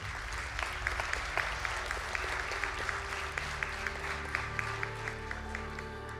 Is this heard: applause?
yes